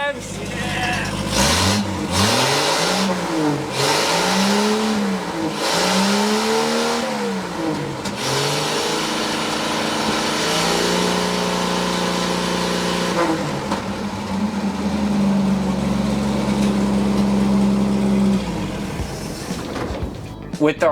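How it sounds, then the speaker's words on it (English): Car engine revved repeatedly inside a soundproofed vehicle with no windows, rising and falling in several loud bursts before settling into a steady high drone, close and continuous. "just revving the engine a little bit."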